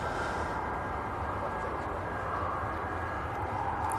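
A Boeing 757 on its takeoff roll at Manchester Airport makes a steady, distant broadband jet roar that holds level throughout, with faint voices in the background.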